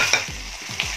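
Boiled cowpeas, soaked and salted, stirred in a pan for Rajasthani makki dhokla: a short burst of spoon scrapes and stirring strokes over a steady low sizzle, close and fairly loud, with no voices.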